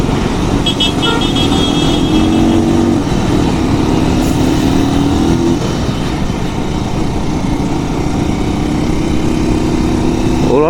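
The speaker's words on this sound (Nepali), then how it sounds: "हेर्नु न ल बाइकले कस्तो पावर फ्यालेको यो बाइकले" A Chinese motorcycle engine revs loud and close, its drone rising in pitch through repeated acceleration runs, with steady wind and road rush throughout and a brief horn toot.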